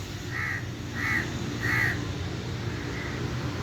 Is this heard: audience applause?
no